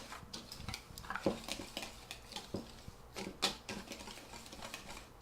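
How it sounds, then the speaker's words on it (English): A whisk scrapes and taps rhythmically against a bowl while mixing dry flour, sugar, salt and baking soda, a quiet, close, irregular clatter with no talking. "Just use a whisk to just kind of combine all those ingredients together."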